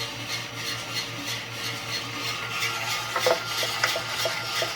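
Sparse, faint pops and crackles of Kenya AA coffee beans cracking inside a Skywalker roaster, over a steady mechanical whir and hum, a few sharp snaps clustered near the end.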